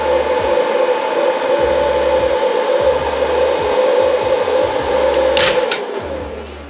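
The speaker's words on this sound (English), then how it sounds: "Now I've got the hair dryer." A hair dryer powered by a 12.8V lithium iron battery blows steadily with a loud, even whoosh and a low motor hum, easing off slightly toward the end.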